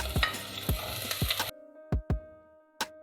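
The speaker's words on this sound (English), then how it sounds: "So now we're gonna saute the onion first, and now we're gonna put our garlic" Onion and garlic, with bay leaf, sauté in a pan: a sizzle under several sharp spoon clacks against the pan, the last few clacks standing out over near silence.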